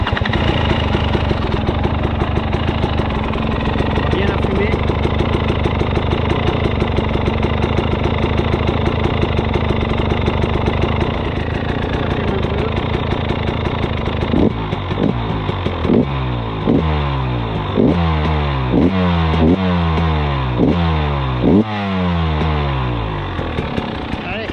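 A warmed-up Husqvarna 300 TEi two-stroke motorcycle with a remapped ECU idles loudly and steadily up close, then its engine is blipped in a series of sharp revs that rise and fall repeatedly, with a voice speaking over it.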